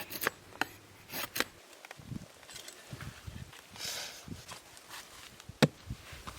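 A knife blade is drawn through wood in repeated pull strokes outdoors, giving close, scraping, rasping cuts with scattered sharp clicks and a crisp snap near the end.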